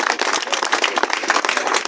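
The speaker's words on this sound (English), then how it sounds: "I think we should give a round of applause to all the YouTubers, Will, Cesar, Simon" Crowd applause at an outdoor memorial gathering at Speakers Corner in London, a steady dense clapping that stays loud and sustained throughout without voices.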